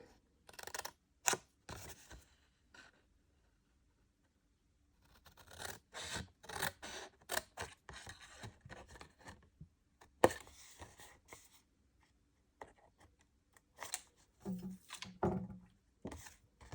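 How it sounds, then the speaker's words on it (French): Scissors cut paper along a printed line while a glittery pouch and embossed folder are being made, giving close, crisp snips and scraping rustles in irregular clusters with quiet pauses between. "Avec notre paire de ciseaux, nous allons juste suivre la petite ligne jusqu'à rencontrer la ligne perpendiculaire."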